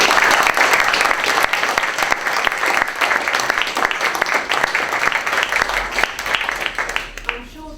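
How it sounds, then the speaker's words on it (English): Loud, steady applause fills the lecture hall as an audience claps for a guest archaeology lecturer, dense and sustained before tapering off near the end. "Can we give a round of applause to Julian?"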